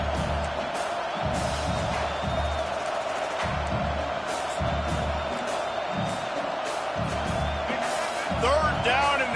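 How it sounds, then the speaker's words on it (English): Crowd noise from a college football video game fills the stadium as a steady roar with swells of cheering, while a commentator talks over it throughout. "This crowd will blow out a vocal cord to help this defense."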